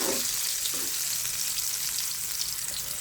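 Teasel gourd (kakrol) frying in oil in a home kitchen, a dense, steady hiss of sizzling that fills the whole stretch at close range, with a faint stir or two and no talking.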